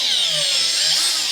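Power drill cutting a 10mm bolt hole in a Classic Mini, a close, loud, steady high-pitched whine of the bit biting into metal.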